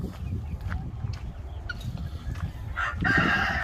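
Broody hens cluck and call continuously over a dense, noisy farmyard background, growing louder toward the end.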